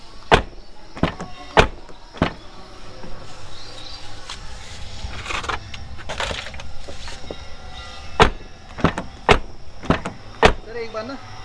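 Inside a 2022 Hyundai Venue facelift, a loose door gives sharp, irregular rattling knocks and clicks, some in quick clusters, over a low background murmur.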